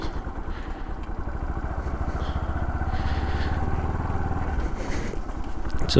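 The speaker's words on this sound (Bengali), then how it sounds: "বাইকের পারফরমেন্স একদমই সেই চেঞ্জ হয়ে গেছে অনেক স্মুথ হয়ে গেছে ইঞ্জিনের সাউন্ড" A steady, low motorcycle engine drone runs throughout, running smoothly after an engine oil change, rumbling evenly with a rush of wind, close and fairly loud with no talking.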